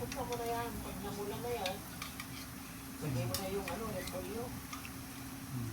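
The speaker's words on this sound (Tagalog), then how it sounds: "Oo, ayan, lagyan natin yung hipon." Shrimp tipped into a pan of sautéing cabbage and stirred, a steady sizzle and scraping stir running under voices talking nearby.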